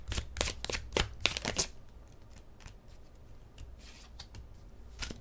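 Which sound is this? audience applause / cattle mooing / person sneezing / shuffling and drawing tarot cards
shuffling and drawing tarot cards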